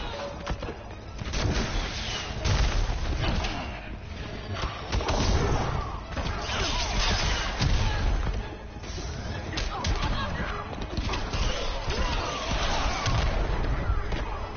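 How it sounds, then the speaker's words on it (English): Repeated booming missile blasts from Injustice 2 rumble almost without pause throughout, loud and dense, with scattered thuds and crashes layered over the game's combat noise. "these missiles are annoying"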